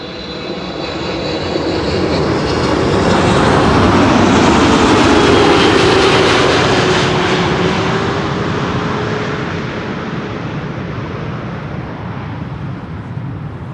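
An airliner arriving on runway 06, the Kaagbaan, at Amsterdam Schiphol roars past, its broad jet engine rush swelling to a loud peak before slowly fading.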